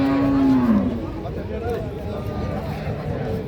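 A dairy cow moos once, loud and close, at a cattle market, followed by a steady murmur of crowd noise and background chatter.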